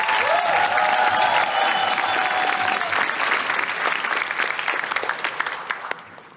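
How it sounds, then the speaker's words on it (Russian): Sustained audience applause fills a studio hall for a comedy sketch show, loud and dense at first, then gradually thinning and fading toward the end, with a few scattered voices underneath. "Под ваши аплодисменты"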